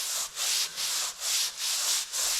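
A wet drywall sponge rubs along a sheetrock wall in steady back-and-forth strokes, six close, even swishes with brief pauses between them.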